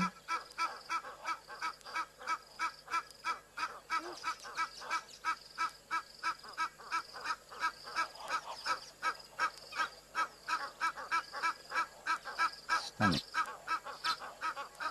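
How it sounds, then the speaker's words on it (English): A group of Egyptian geese at an African waterhole honk in a dense, rhythmic chorus of repeated harsh calls, with a brief sharper call near the end and faint ambient noise beneath. "Can't hear anything for the Egyptian geese shouting the odds."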